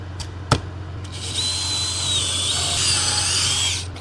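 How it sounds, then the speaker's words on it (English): After a few sharp clicks, an electric power drill bores a power hole through an EIFS stucco wall for a raceway sign installation, a steady whining drone of about two and a half seconds that then stops. "Drill the power hole."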